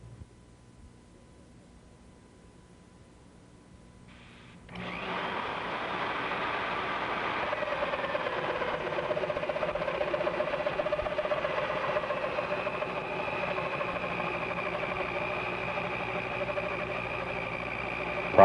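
A 1 horsepower universal motor drives a milling machine cutting a keyway, switching on from near quiet into a loud, steady high whine with a rough grinding edge that holds to the end.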